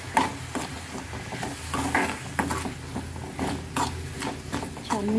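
Bottle gourd dish with homemade masala and turmeric being stirred in a pan, with repeated clinking spoon scrapes and light sizzle in an irregular rhythm, close and alone.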